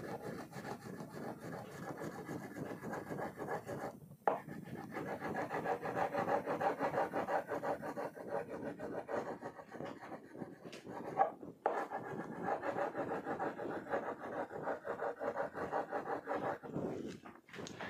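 A light green crayon rubs steadily across paper, strokes running in one direction, a close, continuous dry scratching with brief pauses between passes.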